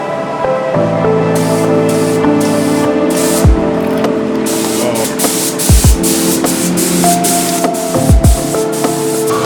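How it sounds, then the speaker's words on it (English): Spray gun laying a final primer coat inside a car engine bay: repeated bursts of close, sharp hissing spray, some short and some longer, over a steady tonal hum. "we're gonna do a final coat of primer"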